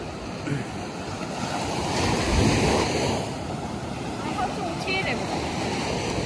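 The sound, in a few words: ocean waves breaking on the beach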